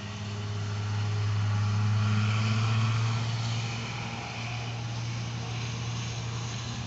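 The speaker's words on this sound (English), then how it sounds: "hold on a minute until the cordwood truck goes by" A cordwood truck rumbles past, its low engine drone swelling as it nears and then easing off, steady and fairly close with no talking.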